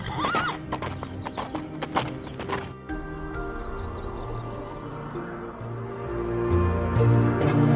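Horse hooves clip-clopping in a steady rhythm, with a whinny at the start and background voices and music under the hoofbeats.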